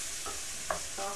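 Food for shakshuka is tossed and stirred in a hot pan, giving a soft, steady sizzle broken by a few brief scraping stirs, close and fairly quiet.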